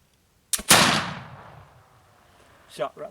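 A single sharp gunshot cracks out loud and near, its report trailing off over about a second, followed by brief voices afterward.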